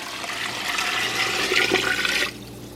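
Water gushes into a large soup pot for cheeseburger soup, a steady rushing pour that runs for about two seconds and then cuts off abruptly, fairly close, with no talk.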